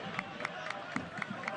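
One person claps steadily at a professional soccer match, a coach of the Oklahoma City side: a regular series of sharp claps about four per second, heard over a diffuse stadium background.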